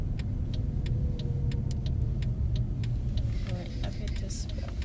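A Mercedes-Benz car in sport mode gives off a steady, low engine rumble close by, with faint regular ticking on top and voices over it.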